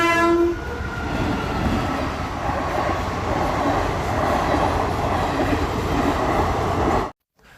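A train rolls steadily past a railway crossing in heavy rain, a loud continuous rumble and clatter with a brief horn at the start, ending abruptly.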